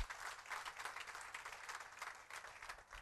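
A church congregation claps during a pastor's sermon; the applause is faint and sounds distant, a steady patter of many hands that swells and dips slightly.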